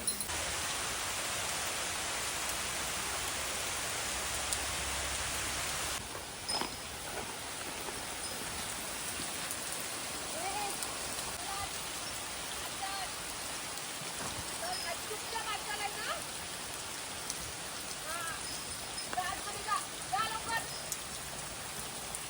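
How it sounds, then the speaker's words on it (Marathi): Sudden steady rain pours down at a village cattle shed in the Konkan, a dense continuous hiss that stays loud for the whole stretch, with faint voices now and then underneath. "पण अचानक पाऊस आला आणि तेवढ्यात सोनानं मला दमवलं."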